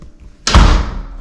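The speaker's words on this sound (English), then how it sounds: "Oh, slammed my door pretty hard, jeez." A house door in a new affordable Ocala, Florida home slams shut hard: one sudden loud close-range bang with a booming low thud that rings and decays for most of a second, no talk over it.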